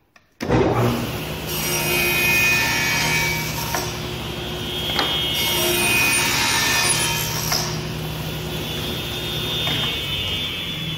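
A saw fitted with a slot cutter runs steadily through a wood board, a continuous loud grinding rasp lasting several seconds after a short start, with no talking.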